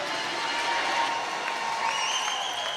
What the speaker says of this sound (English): That cheer is for you, Tim.